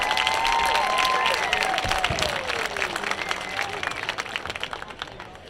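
Crowd applause and clapping for senior cheerleaders at a high school football senior night, loud at first then thinning into scattered claps, with a faint voice and some cheering mixed in.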